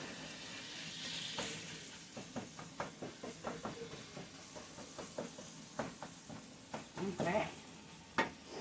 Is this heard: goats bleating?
no